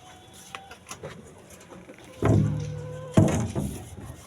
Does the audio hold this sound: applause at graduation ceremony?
no